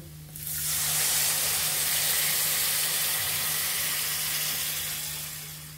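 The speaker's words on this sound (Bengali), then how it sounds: "এখন আমরা জল দিয়ে দিব।" Water poured into a hot pan of rohu fish head muri ghonto sets off a loud, steady sizzling hiss that swells at once and holds for several seconds before easing slightly, with no talking.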